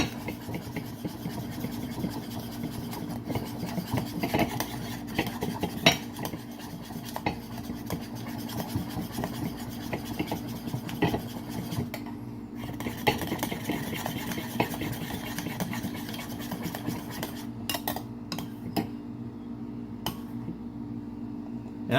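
A spoon stirs cream by hand to whip it, giving a steady, close scraping and swishing that continues without pause and with no talking.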